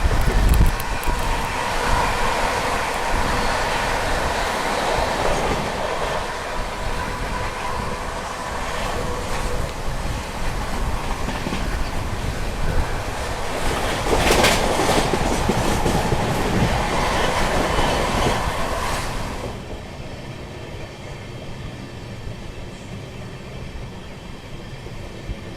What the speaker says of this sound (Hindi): दोस्तों फ्लैट 130 की रफ्तार में हाथरस जंक्शन स्किप।